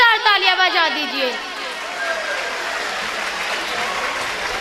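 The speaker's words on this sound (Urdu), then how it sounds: "ایک بار اپنے لیے زوردار تالیاں بجا دیجئے" An audience at an Urdu mushaira in a boys' high school claps loudly in a dense, sustained burst of applause, starting with a few rhythmic claps and swelling into a continuous crowd ovation.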